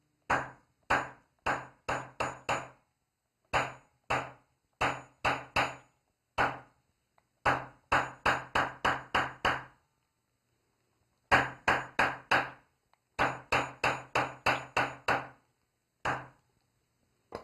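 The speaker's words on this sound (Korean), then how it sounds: "쇠망치를 사용하셔서 수직으로 두들겨 주시면 됩니다." A metal hammer strikes a leather stamping tool held upright, giving sharp, close taps in quick bursts of several blows separated by short pauses.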